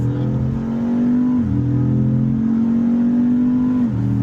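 A 550HP Dodge Charger Six Pack engine pulls hard and loud from close up in a sustained rising drone, easing briefly twice as the gears shift before climbing again.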